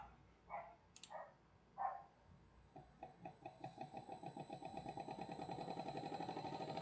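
A few dog barks sound, then an electric motor on a test bench, driven by a Delta inverter, starts up. Its pulsing hum grows steadily faster and louder as it spins up.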